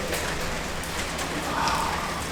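Steady rain falls all day in cold, miserable weather at an outdoor work spot in Southern China, a soft continuous patter and hiss with no clear drops standing out.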